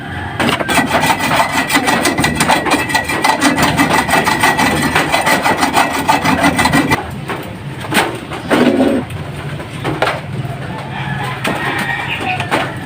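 Hand saw cutting through wood, a steady rapid rasping stroke rhythm for the first several seconds, then scattered scrapes and knocks; close and fairly loud, with faint birds in the background.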